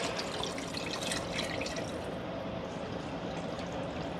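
Milk and half and half pour steadily into a pot of thickening loaded potato soup, a continuous close liquid splash and gurgle lasting throughout with no talking.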